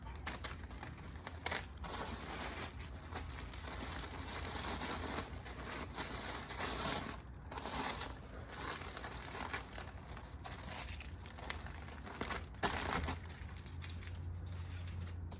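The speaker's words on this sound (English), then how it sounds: "I do wrap everything in tissue paper" Tissue paper crinkling and rustling steadily while a clothing order is wrapped for shipping, a continuous close papery crackle with sharper crisp bursts, no talking.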